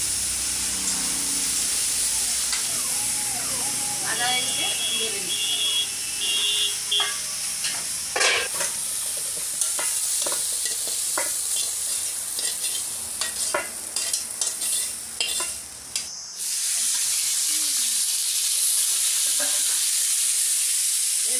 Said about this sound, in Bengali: একটা কলা আলু বেগুন ভাজছি